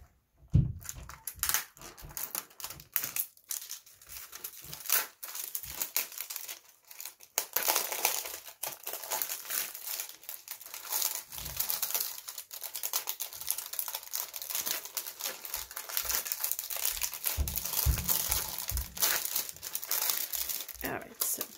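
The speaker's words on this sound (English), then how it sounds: "I'm just going to use the tip of a pencil to just break the plastic" Plastic packaging is pierced and broken open with the tip of a pencil, producing dense, continuous crinkling and crackling with sharp snaps, close and steady throughout, without talk.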